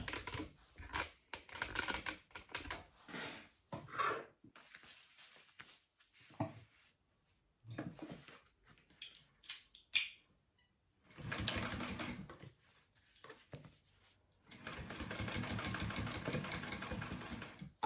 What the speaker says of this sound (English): top stitch along the piece you just sewed